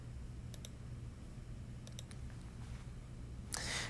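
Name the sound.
keys pressed on a TI-83/84 calculator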